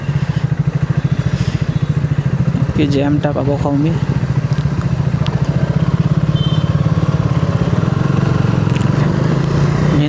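A motorcycle rides through Kolkata at night, its engine a steady, close, throbbing drone for the whole stretch while someone talks over it.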